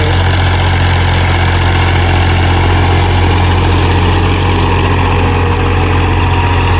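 A tractor engine runs steadily in a wheat field, a loud, continuous low diesel drone with constant vibration and no change in pace throughout.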